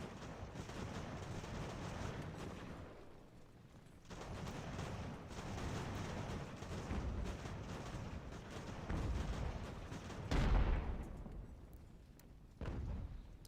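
Artillery fire in the Ultimate General: American Revolution video game: a continuous rumbling barrage of booms and crackling blasts, with a sharp break around the four-second mark and a heavy, loud burst near the end.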